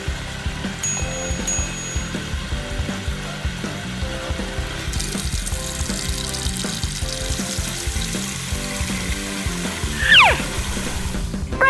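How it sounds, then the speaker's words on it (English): A cartoon water effect for cold water applied to an injured farm animal's wound plays as a hissing spray over light background music, with a quick rising chirp near the end. "we should use cold water"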